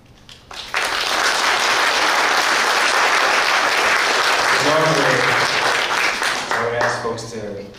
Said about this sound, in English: we don't do the clapping and stuff in the chambers